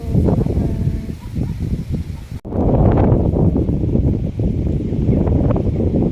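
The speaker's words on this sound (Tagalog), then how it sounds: "ang lakas ng hangin" Strong wind buffeting an outdoor microphone, loud rumbling gusts that roar continuously, with a brief sudden dropout partway through before the blustering returns just as hard.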